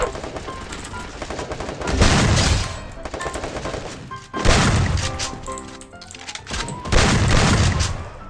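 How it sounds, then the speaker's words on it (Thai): Paired shotgun blasts in the Free Fire shooting game, loud and booming, arriving in three heavy bursts separated by short pauses, over a steady layer of game noise with no talking. "ตอนนี้ เรามีลูกซองไอซ์สองกระบอกแล้วนะครับคุณผู้ชม"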